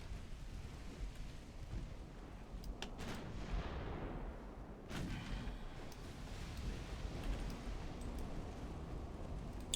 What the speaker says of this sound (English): Luckily, only 400 damage with these 21-inch torpedoes that blew up.